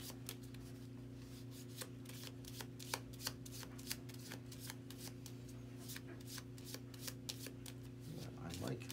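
Cards from a Marvel Champions card game deck being shuffled by hand, a rapid series of crisp riffling bursts, close and quiet, with a steady low hum underneath.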